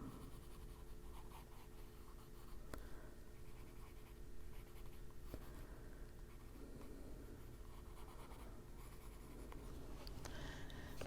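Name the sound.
colored pencil coloring on paper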